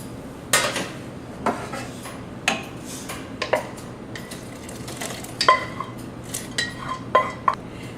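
Rice being tipped into a pot for a one-pot meal, with a run of sharp metallic clinks and scrapes of spoon against pot over a low steady background, fairly close and without talk.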